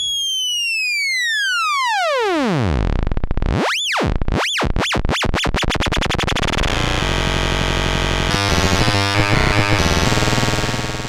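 Arturia MicroFreak synthesizer with its LFO pushed up into the audio range: a loud electronic tone sweeps downward, pulses with a wobbling rhythm, then settles into a harsh, buzzing, distorted drone that warbles and stutters near the end.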